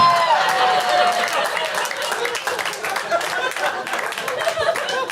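A stand-up comedy club crowd bursts into sustained clapping mixed with laughter, chuckles and a few shouting voices, dense and lively from start to finish.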